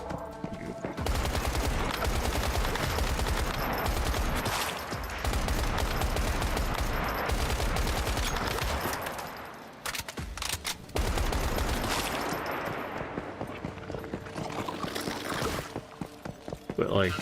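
Sustained gunfire in the video game Once Human, bursts and machine-gun fusillades aimed at the player, dense and loud for most of the stretch with a brief lull, while a voice talks faintly underneath.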